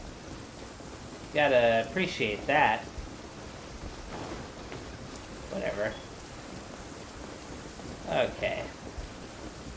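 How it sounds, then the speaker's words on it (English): Steady rain hisses through the whole stretch in the Genshin Impact video game, with soft background rumble under it, while someone talks in brief bursts over the top. "Now it's raining."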